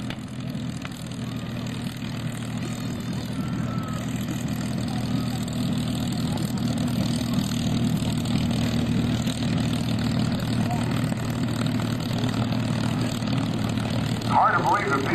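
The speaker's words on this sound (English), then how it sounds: "Hard to believe that P-51 was an airplane that was designed by North American primarily for export." A Tuskegee Airmen P-51C Mustang propeller fighter drones steadily overhead at an air show, a continuous low engine roar holding for the whole stretch with faint crowd or announcer sound underneath.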